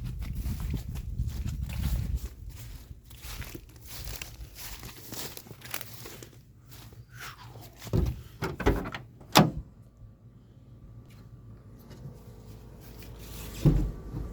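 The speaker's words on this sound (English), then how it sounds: "can I talk whilst opening the doors?" Doors being opened, with several knocks, clunks and scraping bursts spread across the stretch, a loud rumble near the start and another thump near the end, quiet handling noise in between.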